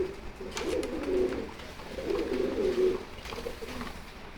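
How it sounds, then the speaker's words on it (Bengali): Girizel pigeons on a farm coo in low, rolling phrases: three warbling bursts close by, with quiet gaps between and no talk. "খুব ভালো একটা কোয়ালিটি কবুতর এটা গিরিজেল"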